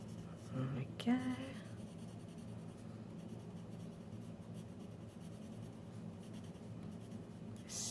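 A watercolour pencil scratches roughly across paper in a soft, continuous scribble, heard close and quiet over a low background hum.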